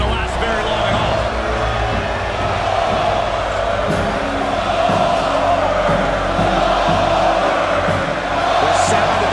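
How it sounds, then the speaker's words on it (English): A dense arena crowd roars continuously in a WWE 2K22 wrestling match between Goldberg and The Giant, a loud unbroken wall of cheering with a commentator speaking over it. "The sound of this crowd is deafening, and he's asking for more."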